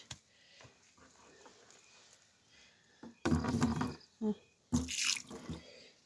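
Water splashes into bread dough for Ethiopian difo dabo, in two short loud bursts of pouring and sloshing after a quiet stretch of faint kitchen noise.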